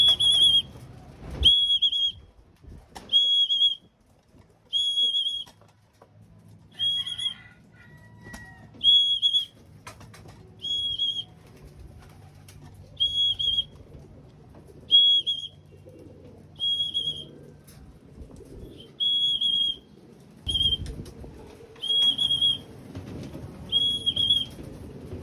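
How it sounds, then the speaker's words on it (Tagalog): Repeated short whistle blasts at a steady, regular rhythm call racing pigeons home to their loft at dusk, with faint wing flutters and low background noise between blasts. "Gamit tong walang kwentang sipol."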